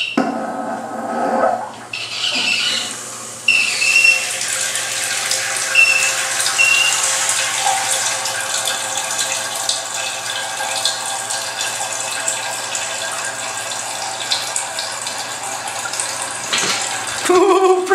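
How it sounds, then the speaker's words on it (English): A toilet tank refills after the water valve is turned back on, a steady loud rushing hiss of water running continuously and near, with a brief pause near the start and a shift in tone at the end. "I turn the water valve back on and the tank fills up with water"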